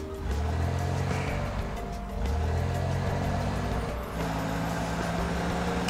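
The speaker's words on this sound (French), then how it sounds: "Donc on va conduire la voiture." A car driving in the SimCity video game, a steady engine drone with shifting low tones and a brief dip midway, continuous and fairly loud with a busy traffic-like hum.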